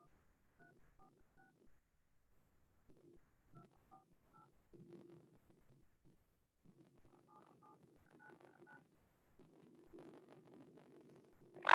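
Touch-tone keys dial a Zoom meeting ID on a phone, a steady string of short beeps in small clusters, fairly faint, ending with a brief louder click.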